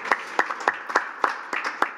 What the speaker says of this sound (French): On peut déjà l'applaudir